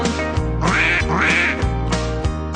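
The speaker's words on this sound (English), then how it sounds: "Right, the ducks go as they waddle under the fence." Ducks on a farm quack repeatedly in a loud, close, raspy chorus of overlapping calls over a musical backing, with no talking.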